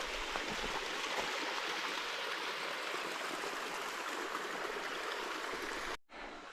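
A mountain stream at a water source along the Pacific Crest Trail rushes and burbles steadily at close range, a constant broadband wash with no voices, cutting off abruptly near the end.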